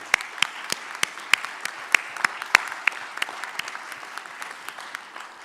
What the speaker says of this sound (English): we must applaud it.